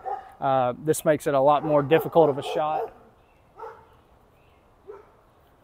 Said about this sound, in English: Sorry about the barking dogs here.